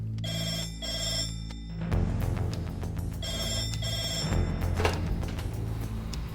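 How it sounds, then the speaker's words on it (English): A red telephone at an air ambulance base rings in two loud, repeated electronic bursts, with shuffling and movement noises in the room between and after the rings. "when that red phone rings, we're ready for action."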